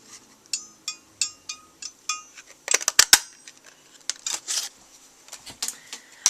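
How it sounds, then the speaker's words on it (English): A butterfly die cut punches a small butterfly out of black paper: a series of sharp, evenly spaced clicks and snaps, then a denser cluster of crisp cracks and rustles, close and loud with no talking. "I'm going to punch out this butterfly, actually the smaller butterfly, in the basic black"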